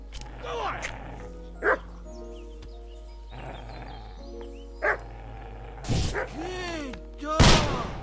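In the video game Kingdom Come: Deliverance 2, a dog gives several loud, sharp barks in separate bursts amid other game sounds and voices.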